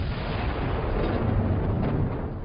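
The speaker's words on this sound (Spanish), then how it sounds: "Se oyó otra explosión." A deep, rumbling explosion sound effect in a documentary about the First World War, a sustained loud roar with no voice over it.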